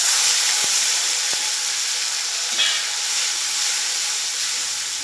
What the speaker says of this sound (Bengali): এইভাবে আমি টমেটোটাকে ভাজবো।